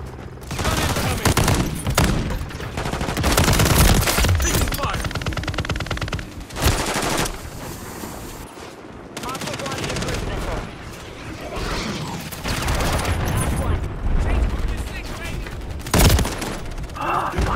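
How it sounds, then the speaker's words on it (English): Rapid bursts of close, loud gunfire in a video game firefight, with heavy shotgun blasts mixed into dense automatic fire, continuing nearly without pause under occasional muttered talk. "Fucking shotgun."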